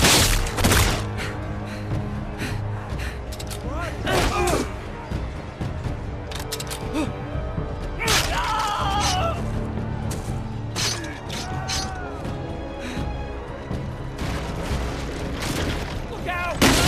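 Gunfire and heavy booms crackle through a battle in the video game Telltale's Game of Thrones, with bursts of shots and impacts layered over music, and voices shout over the din.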